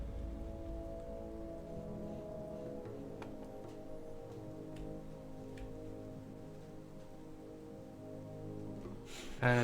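Steady rainfall in the swamp of the video game Gothic 2, a constant patter of drops with faint ticking over low ambient game tones, heard alone with no talk.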